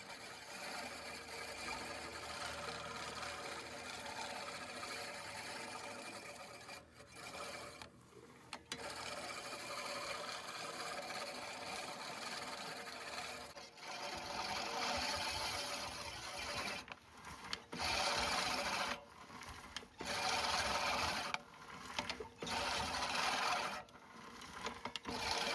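A LawnMaster LMRM1602 16-inch five-blade push reel mower cuts grass set very low, giving a steady whirring, clicking blade sound with brief pauses and surges as it is pushed back and forth, fairly faint overall.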